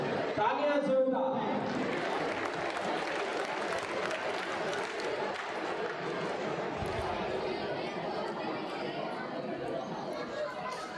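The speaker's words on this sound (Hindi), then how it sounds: "तो एक बार जोरदार तालियों से आइए हम अभिनंदन और स्वागत करें" Crowd applause and cheering fill a large indoor stadium during a sports games closing ceremony, a steady dense wash of clapping with crowd chatter mixed in, sustained throughout at fairly even loudness.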